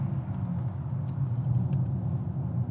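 A new Nissan Z sports car drives on a winding mountain road, its engine a steady low rumble heard from inside the cabin during a downshift to second gear, continuous and moderately loud with no talking.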